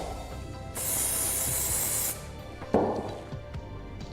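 Dye penetrant sprays from an aerosol onto a metal test sample in a materials lab: a single steady hiss lasting over a second, followed by a short clunk and faint handling noise.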